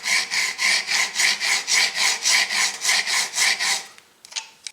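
A tool is sharpened by hand on a 600 grit diamond stone, steady rhythmic back-and-forth rasping strokes, about a dozen evenly spaced passes, close and fairly loud, then a few lighter scrapes.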